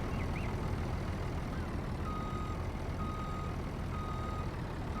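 In a video game, a truck's reversing alarm beeps at a steady rate of about once per second. The beeps sit over a loud, rumbling engine drone that continues throughout.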